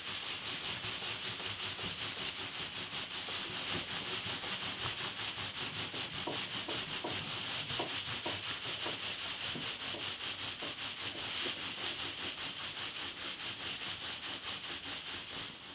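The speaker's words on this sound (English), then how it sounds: "I'm going to reposition the bubble wrap and I'm going to rub it in the opposite direction again" Hands rubbing nuno felt through bubble wrap, a steady close scratchy swishing in a fast even back-and-forth rhythm that continues without pause throughout, with no talking.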